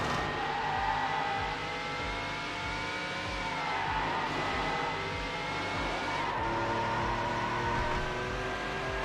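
A race car engine in the video game Need For Speed Hot Pursuit 2 drones and revs continuously, with shifting pitch as the car speeds through a course lined with fall leaves. No voices are heard.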